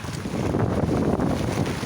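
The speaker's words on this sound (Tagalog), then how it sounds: "Malakas yung hangin." Strong gusty wind roars and buffets the microphone during a sudden rain squall, a dense, loud rumbling rush without speech.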